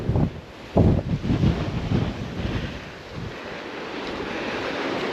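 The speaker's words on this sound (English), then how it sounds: "Back into the wind up here." Wind buffets the microphone on the Giant's Causeway coast in Northern Ireland, with gusty rumbling bursts early and a steady wash of surf beneath, no talking.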